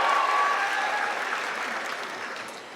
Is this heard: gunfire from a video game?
no